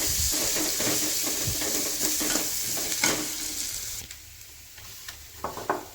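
Spices and tomato with onion sizzle and fry in a pan while a utensil stirs and scrapes through them, a close, steady crackle that quiets near the end with a few sharp clinks.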